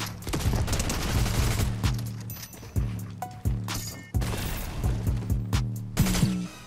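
Gunfire in the video game Fortnite: repeated bursts and single shots crack out loud and close, with short gaps between volleys and a dense, echoing battle texture throughout.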